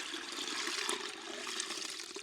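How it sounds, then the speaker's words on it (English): Coffee pours steadily through a strainer and splashes for a couple of seconds, a continuous close-up gush with no voices. "I simply give it a stir and pour it through the strainer without any filter."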